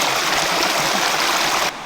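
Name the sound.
flowing water of a jungle waterfall in Ghana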